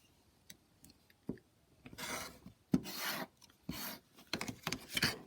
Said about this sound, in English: So I'm going to trim this straight line first.